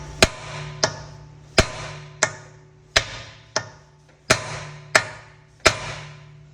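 A hammer driving a chisel onto an anti-theft wheel nut on a car, eight sharp metallic blows in a steady rhythm about two per second, close and loud, each ringing briefly before the next.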